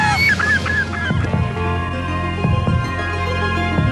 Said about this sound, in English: bioacoustics, which is the use of bird distress calls